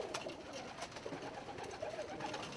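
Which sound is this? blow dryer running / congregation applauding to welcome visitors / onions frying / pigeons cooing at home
pigeons cooing at home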